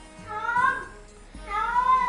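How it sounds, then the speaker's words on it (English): A pet cat meows twice, each call a drawn-out, rising-and-falling cry, close and fairly loud, with a low background hum between the calls. "I don't know if you guys hear my cat"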